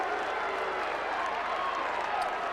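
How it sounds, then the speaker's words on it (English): A football crowd at Footy Park in Adelaide applauds during a night match, a brief steady wash of distant clapping and crowd noise. "Oh, there's some applause there."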